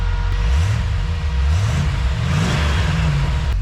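A 1930 Ford Model A hot rod engine revs in a few rising and falling pulls, then settles toward a rough idle, loud and close with no talking.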